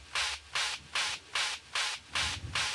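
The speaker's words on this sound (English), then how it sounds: "This is just a texture sample with some distortion, some high pass filtering, some vocoder to make it sound even more like noise" A distorted, high-pass filtered and vocoded kick texture sample for schranz techno, six evenly spaced bursts of bright, noisy hiss in a steady pulse, with no voices.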